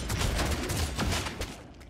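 Gunfire in the Deathwatch video game during a Tyranid invasion mission, a quick flurry of sharp shots in rapid bursts, loud and close, with no talking.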